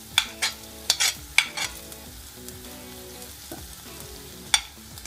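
Sliced garlic and ginger sizzle in a hot pan for a mutton cutlet, a steady close crackle broken by several sharp stirring scrapes and clinks.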